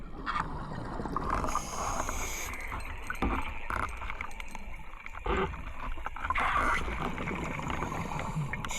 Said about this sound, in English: That pinging noise you can hear is me dragging the spike across the gravel.